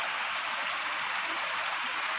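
Heavy rain falls steadily in a dense, even hiss, close and continuous without any break.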